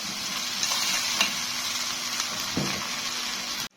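Food for a duck dish sautés in a pan, a continuous close sizzling hiss with light stirring scrapes and a brief clatter near the end before it cuts off.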